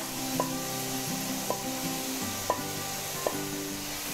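A pinch of turmeric sizzles in a hot oil tempering for a Maharashtrian potato bhaji, a continuous close frying hiss punctuated by about four sharp spoon clicks as the mixture is stirred.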